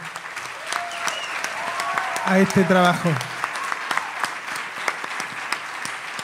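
An audience at a cultural event applauds with dense, steady clapping that swells briefly in the middle, while someone speaks over it.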